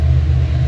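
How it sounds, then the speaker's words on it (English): A train passing nearby gives a steady, heavy low rumble that fills the whole short moment at an even loudness, with no voices. "So train's going by."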